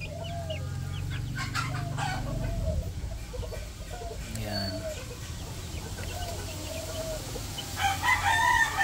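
Rhode Island chickens on a Filipino farm cluck and murmur close by, with a rooster crowing and someone talking over the steady flock noise.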